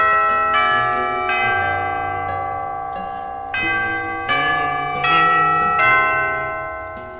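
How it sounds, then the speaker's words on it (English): A video game school bell rings out in long sustained chimes, struck several times in a steady sequence of resonant harmonic tones that hang and slowly decay, with no voices over it. "as soon as the bell rings"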